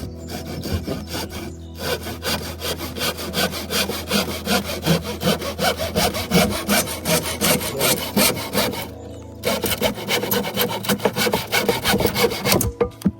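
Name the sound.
hand sawing a wooden board in half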